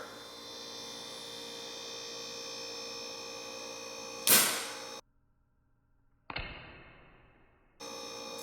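An electrical spark from touching an insulated screwdriver to a live light fixture: a sharp crackling snap, then sudden near-silence as the breaker trips, followed by a second short pop and returning hum.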